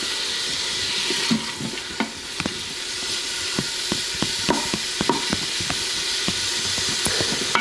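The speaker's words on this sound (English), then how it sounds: "you want to cook the onions for about 2 or 3 minutes." Chopped onions sizzle steadily in an Instant Pot on its sauté setting for a sauce, with frequent sharp clicks and scrapes of a utensil stirring against the inner pot, close and with no voices.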